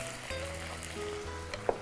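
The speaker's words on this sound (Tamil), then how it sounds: "கருவேப்பிலை தாளிக்கிறதுக்கு போட்டோம்." Two dried red chillies and curry leaves crackle and sizzle in hot oil for tempering, a steady close frying hiss with a small pop near the end.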